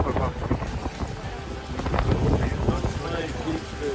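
Hooves of a London guard's horse clip-clop on pavement in an irregular rhythm, close by, with wind buffeting the microphone and a voice talking over it.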